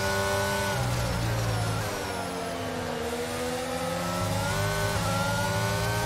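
Simulated F1 race car engine in the F1 22 racing game played in VR: a loud, continuous high-pitched whine that sags briefly around the middle and then climbs again, heard alone without talk.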